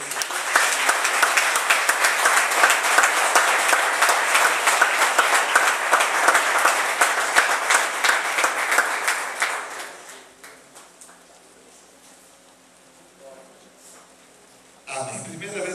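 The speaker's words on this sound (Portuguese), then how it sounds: "A igreja pode aplaudir." A church congregation applauds loudly and steadily after a child is presented and blessed. Dense clapping fills about ten seconds, then fades to a quiet room with faint murmurs before a voice returns.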